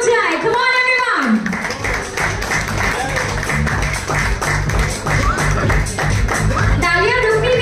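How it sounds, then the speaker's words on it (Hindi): An audience applauds an actress at a Bollywood film launch event, a sustained burst of clapping in the middle with a host's amplified voice and music at the start and end. "जोरदार तालियां बजाए, कम ऑन एवरीवन"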